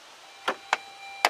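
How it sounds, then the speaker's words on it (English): A 2007 Saturn Ion with a 2.2 liter engine sounds its key-in-ignition warning, giving three short, sharp beeps at uneven intervals, close and fairly faint against a quiet background. "You can hear the beeper going off because the key is in the ignition."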